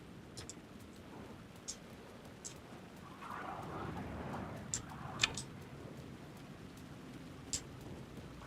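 Faint rain patters in a horror video game, Alan Wake 2, a soft steady hiss with scattered ticking drops and a slightly louder wash midway.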